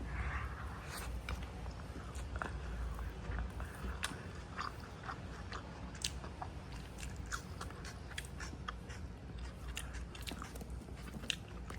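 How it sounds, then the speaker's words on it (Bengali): Someone eating fried leafy greens (shak bhaji) with a home lunch, producing soft, close biting and chewing sounds with faint crunches that repeat steadily and quietly throughout, with no talking. "তো এই যে শাক ভাজিটা খাবো"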